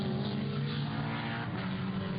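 A Mercedes GT race car, its mid-mounted engine in front of the driver, runs at the Blancpain Sprint Series in Slovakia, 2014. The engine holds a loud, steady, throaty drone throughout, with no voices over it.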